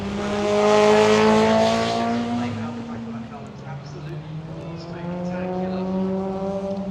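A racing car engine roars past on the Brands Hatch circuit, loud at first and then easing on overrun as the driver lifts off, with the engine droning on in the distance.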